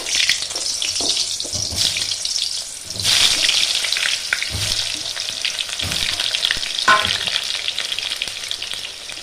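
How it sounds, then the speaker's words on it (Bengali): Potatoes fry in hot oil, a loud close sizzle running throughout with bursts of crackling and stirring scrapes, no one talking. "এই আলুগুলো আমি একটু লাল লাল করে ভেজে নেব"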